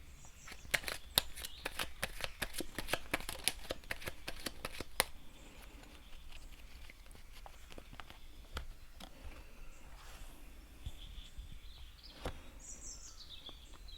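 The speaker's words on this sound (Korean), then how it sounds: "2021년 수박님을 위한 조언카드 한 장 뽑아보도록 하겠습니다" Tarot cards are shuffled and drawn by hand, giving a quick burst of crisp riffling flutters over the first five seconds, then a few sparse soft slides and taps of single cards against a quiet background.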